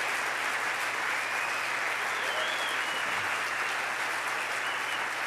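An audience at the US Conference of Mayors applauds steadily for several seconds, a dense even wash of clapping filling the hall, loud and continuous with no talking.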